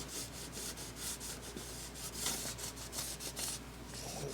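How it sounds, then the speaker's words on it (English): Bright Boy abrasive block scrubbed over model railroad track at a newly inserted turnout, a soft, faint, raspy rubbing in repeated back-and-forth strokes, alone with no talk. "Took my Bright Boy abrasive block."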